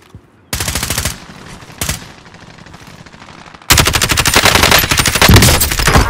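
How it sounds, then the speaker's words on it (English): Bursts of automatic gunfire aimed at the player in a video game, loud and close, with a short burst, a brief shot, then a long sustained rattling stream. "Shit! I'm getting shot!"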